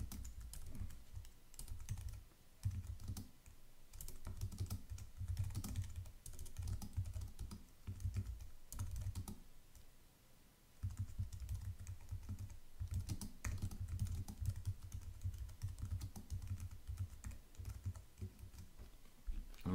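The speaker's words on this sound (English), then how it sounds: "so we type in the description" A description being typed on a computer keyboard, a quiet, close, steady clatter of keystrokes in uneven bursts with a brief pause midway, and no talking.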